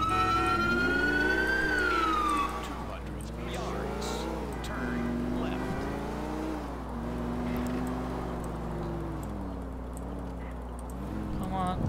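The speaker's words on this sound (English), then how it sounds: "Well, I guess for the intersections, I'll leave the sirens on." A police car siren wails in the GTA LCPDFR video game, sweeping up and down in long loud cycles alongside the car's engine.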